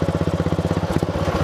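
A mud mower's engine running with no governor, fitted with a 6-inch engine pulley, a 4-inch transaxle pulley and 2-inch oversized tires, gives a loud, close, rapid throbbing chug that keeps a steady pulsing rhythm.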